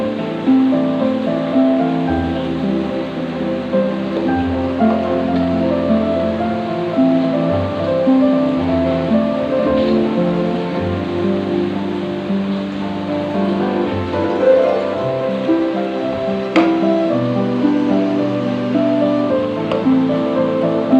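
Grated carrot for carrot halwa sautéing in a pan, a steady continuous sizzle and scraping stir running throughout, fairly loud and close, with no talking.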